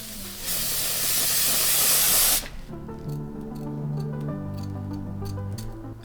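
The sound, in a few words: hairspray being sprayed on wig hairline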